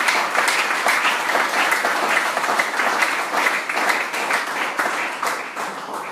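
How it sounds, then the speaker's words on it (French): A church congregation at a French-language service claps together, a full, sustained round of applause with many crisp individual claps, tapering slightly near the end. "Applaudissons le Seigneur pour sa parole"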